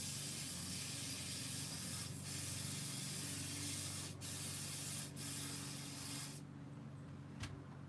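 Continuous close spray-can hiss while a Stihl 500i chainsaw kit is assembled, a loud, steady aerosol rush lasting several seconds with brief pauses and shifts in pressure.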